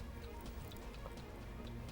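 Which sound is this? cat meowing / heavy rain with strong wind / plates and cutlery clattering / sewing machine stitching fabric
heavy rain with strong wind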